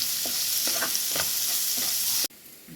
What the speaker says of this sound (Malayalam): ക്യാരറ്റ് ഇതിലോട്ടിട്ട് ഒന്ന് വഴറ്റിയെടുക്കാം.